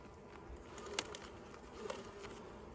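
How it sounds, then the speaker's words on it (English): Bees buzz around an open beehive lid on a new homestead, a faint continuous drone with a few brief louder passes as individual insects fly close. "Shoot, we got the bees in here."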